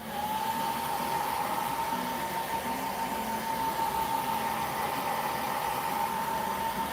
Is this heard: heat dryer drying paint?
yes